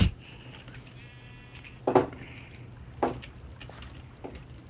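Sheep bleating in the video game Minecraft, two or three short bleats spaced over a few seconds over a faint background hum, moderately close.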